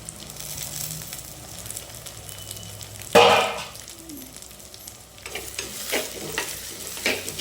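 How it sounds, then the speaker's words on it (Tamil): Ripe tomatoes sautéing in a clay pot, with a sudden loud sizzle burst as they hit the hot oil, then softer frying and intermittent stirring scrapes. "இது நல்லா குழஞ்சி வரட்டும், அது வரைக்கும் வதக்கலாம்"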